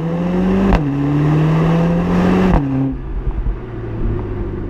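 A Mercedes-AMG CLA45 S engine revs loud and close on a track, its pitch climbing, dropping sharply at each shift, then climbing again before easing into a lower idle rumble.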